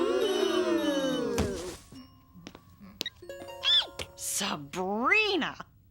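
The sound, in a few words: cell phone ringing in cartoon classroom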